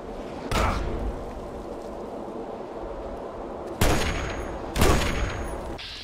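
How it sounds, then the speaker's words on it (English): Gunfire in the Fallout 3 video game, a few loud, sharp blasts spaced out over six seconds with some decaying echo, over a low steady game background. "Oh, you're shooting me."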